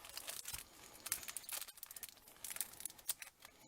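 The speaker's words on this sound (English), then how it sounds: "I really should have opened these packages ahead so you didn't have to listen to them crinkle" Close, brittle crinkling of plastic packaging on specialty paper in irregular bursts, crackling and rustling as it is handled and pulled apart.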